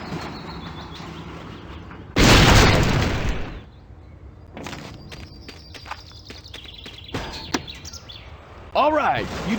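Explosion from a detonator in the 1998 PC game Tonka Garage: a loud, sudden blast around two seconds in with a rumbling tail, surrounded by quieter game sound effects and music.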